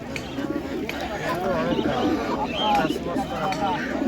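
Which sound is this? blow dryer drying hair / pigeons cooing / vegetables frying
pigeons cooing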